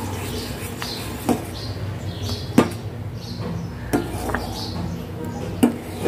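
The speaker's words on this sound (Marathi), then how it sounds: "याला मी असं कंटिन्युअसली हलवून घेते" Custard powder mixture stirred continuously in a pot, with a soft scraping swirl broken by a handful of sharp clinks of the spoon against the metal, close by.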